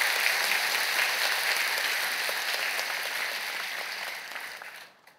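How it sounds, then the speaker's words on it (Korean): A church congregation claps to welcome a new minister, a dense sustained round of applause filling the room that tapers off and stops near the end. "크게 박수로 환영하시지요"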